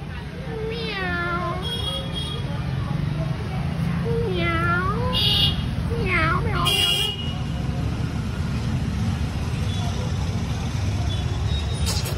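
A blue-eyed cat meows several times, clear and fairly close, over a steady background of street traffic with a vehicle horn and murmuring voices.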